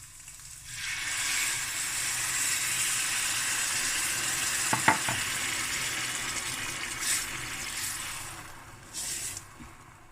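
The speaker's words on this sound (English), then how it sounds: "now I'm going to add my water" Water poured into rice frying in a pan for gesmoorde rice sets off a loud, steady sizzling hiss that starts after a brief quiet moment and holds to the end, with a couple of faint clinks.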